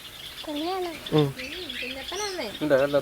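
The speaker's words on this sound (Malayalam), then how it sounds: "ഇവൻ നമ്മുടെ കിളിക്കൂട്ടിലുണ്ടായ ലോറീസിന്റെ പുതിയ കുഞ്ഞാണ്" A lorikeet chick calls repeatedly in short, wavering, raspy squeaks, close by in a backyard aviary, with a few sharper chirps between.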